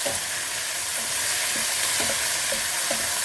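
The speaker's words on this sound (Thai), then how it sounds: "จากนั้นก็ผัด" Peas and scallops stir-frying in a pan give off a loud, continuous hiss of sizzling oil, with regular soft scraping strokes of a spatula tossing them, up close.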